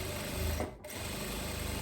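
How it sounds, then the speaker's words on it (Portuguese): A sewing machine stitches binding onto the armhole of a blouse with a fast, steady mechanical whir and rapid needle chatter, pausing briefly midway before resuming, heard close up and quiet. "E vou vir passando uma costurinha por cima."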